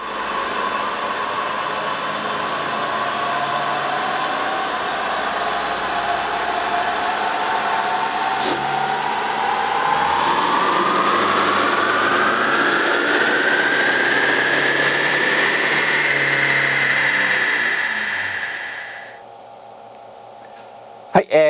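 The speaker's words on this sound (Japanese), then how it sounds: "3L1KD エンジンを積んだこちらのハイエースのパワーチェックを行います" A Toyota HiAce van's 3-litre 1KD diesel engine, fitted with an F-CON iD tuning unit, revs up steadily under load on a dynamometer, its whine climbing in pitch for several seconds before cutting off abruptly, leaving quiet hum.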